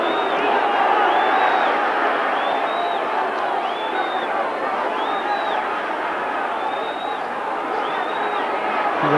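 A large boxing crowd at a 1989 fight between Roberto Duran and Iran Barkley roars in a steady, dense wash of cheering and shouting, with a commentator's voice running over the noise.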